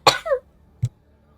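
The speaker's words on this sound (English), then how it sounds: "I had a cough in my body" A single short cough, close and fairly loud, followed by a brief second throat sound after a pause, with quiet background otherwise.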